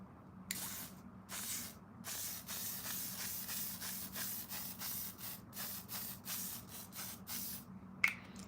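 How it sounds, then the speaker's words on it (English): Makeup setting spray misted onto a face in a series of short, sharp hissing bursts, about a dozen quick pumps in an irregular rhythm, close and fairly quiet against a faint background hum. "And now the spray"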